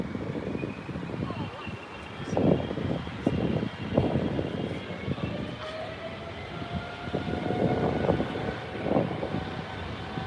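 An airliner with very powerful high-thrust engines lands at Heathrow, its distant engine roar carrying a thin, rising whistle that sweeps upward over several seconds while people talk nearby.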